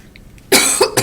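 A single close, harsh cough breaking out after a quiet moment, followed by a short second burst.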